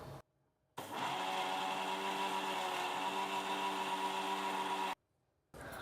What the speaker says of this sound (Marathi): आता हे सर्व मिश्रण आहे की नाही आपलं मिक्सरमध्ये फिरून झालेलं आहे.